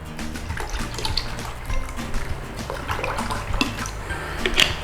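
300 ml of water poured into a bowl for naan dough, a steady close gurgling, splashing stream with small bursts throughout.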